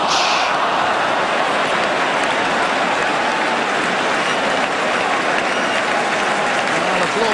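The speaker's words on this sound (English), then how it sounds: "Applause all around the ground for that Luton Town move" A football crowd at Luton Town's ground during a 1982/83 match against Aston Villa applauds steadily and loudly all around the stadium, a dense, continuous wash of clapping that holds for the whole stretch.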